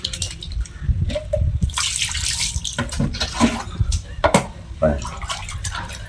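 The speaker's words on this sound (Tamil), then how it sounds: "துணி அலசுறோம்." Running water splashes and rinses cloth with sloshing bursts, while a voice speaks intermittently over it.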